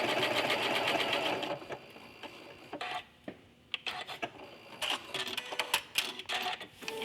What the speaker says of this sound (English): I'm going to start stitching my heart, pressing my button so that it's going to stop after it completes its single heart